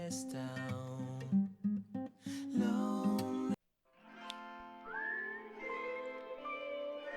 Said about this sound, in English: Hate a whistle. Hate a whistle.